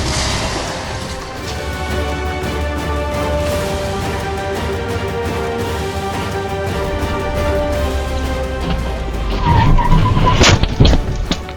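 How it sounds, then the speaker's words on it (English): A car loses control on a highway with long, loud tire squeals and skidding that hold steady for several seconds, then end in a burst of harsher impact noise near the close. "Peaceful drive quickly turned tense when the car lost control and flipped, heading into oncoming traffic."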